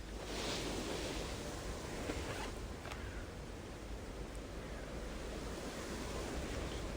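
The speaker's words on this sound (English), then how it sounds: "Similar wind here." Strong wind rushes across the microphone on a disc golf course, a broad steady roar lasting about seven seconds with no pauses.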